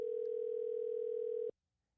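A telephone tone sounds while a friend's number is being called: one steady, loud, unbroken tone that holds for about a second and a half, then cuts off abruptly into silence.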